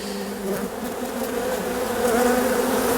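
Honeybees buzz steadily and densely around an opened hive during a removal, a close, continuous droning swarm that swells slightly louder toward the end, with no talking.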